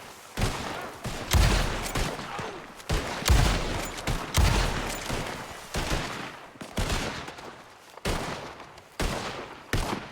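Repeated bursts of gunfire in a Western roleplay video game shootout, loud volleys and single shots clustered through the stretch with brief gaps, no talk over it.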